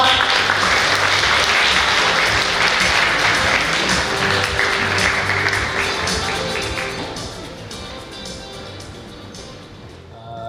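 Large forum audience applauding to welcome a district mayor at a biennale event, a dense, loud wash of clapping that slowly thins and fades, with a low hum of music or room tone underneath.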